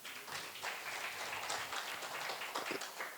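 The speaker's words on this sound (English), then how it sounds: "You can give yourselves a round of applause." Conference audience applauding at the close of a day's program, a dense, steady patter of many hands clapping throughout, moderately loud and without talk.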